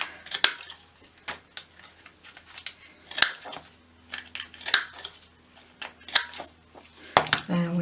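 Scissors snip a paper gift tag in a series of sharp, close cuts spread irregularly across the moment, with a faint background hum and no talking.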